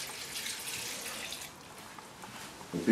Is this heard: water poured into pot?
yes